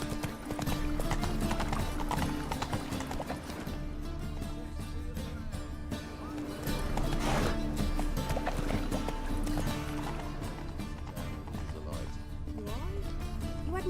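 Hooves of Roach, a horse in the video game The Witcher 3, clip-clop steadily through a dense in-game soundscape of music and ambience, with a faint voice in places.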